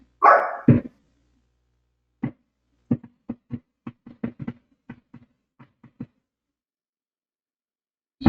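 Dogs bark in short separate bursts at moderate distance, starting with one loud yelping bark, then a quiet pause, then a run of irregular single barks spread over several seconds.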